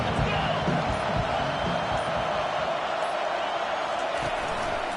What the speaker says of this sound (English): Second down, and this crowd is turning it up a notch.